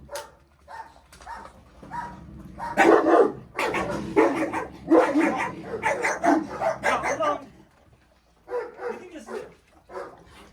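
A dog barks repeatedly in close, loud bursts mixed with yips and whimpers, with people talking over and around it for most of the stretch.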